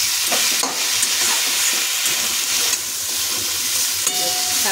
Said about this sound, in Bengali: শাকটা ভাজা হয়ে গেছে, এবার জল দেবো।